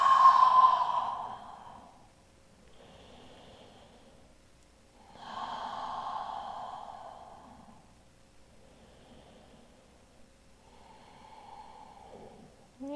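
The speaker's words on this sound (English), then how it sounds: "Let's take 3 to 5 more full breaths. Inhaling nice and slow. Exhale, let it go." Slow, deep breaths during a yoga session: long audible inhales and sighing exhales at an unhurried pace, close and soft, with quiet gaps between them.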